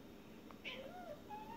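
A house cat meows for food ahead of dinner: one soft, drawn-out meow midway through, faint against quiet indoor room tone.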